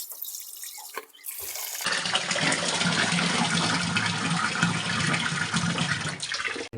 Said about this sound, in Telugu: శుభ్రంగా కడుక్కొని బాస్మతి రైస్ ఒక అరగంట సేపు నానబెట్టి